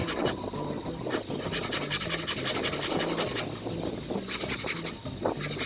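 Hand saw cutting wood to shape the trigger guard of a homemade spear gun, a steady run of rasping back-and-forth strokes, close and moderately loud, with faint background hum.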